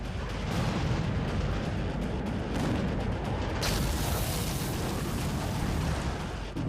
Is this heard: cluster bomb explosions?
yes